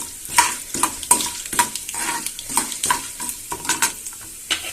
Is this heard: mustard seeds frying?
yes